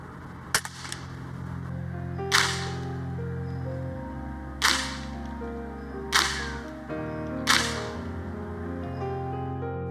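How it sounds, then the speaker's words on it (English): Four evenly spaced sharp cracks from a Beeman P1 (Weihrauch HW45) over-lever single-shot air pistol fired offhand at 10 meters outdoors in the evening, each shot clear and close against steady low background hum and distant bird calls. "It's a over lever cocking single shot air pistol."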